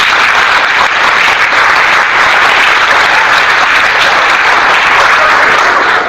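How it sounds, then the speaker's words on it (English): A room full of teachers at a workshop claps hard and continuously, a loud, dense, unbroken roar of many hands that holds steady from start to finish. "When I put my hand up, clap."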